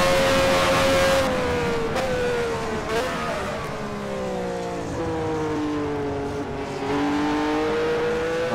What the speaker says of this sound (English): Here comes the V12 versus the Cosworth. Matra V12 sounding very nice indeed.